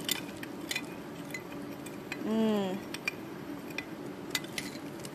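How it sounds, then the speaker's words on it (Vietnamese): Sugar stirred into a mixture in a restaurant kitchen while preparing fried sticky-rice-wrapped chicken: light scraping and clinking of a utensil against a bowl, close and steady, with brief talk and a short vocal sound partway through. "Mình cho khuấy cái này lên."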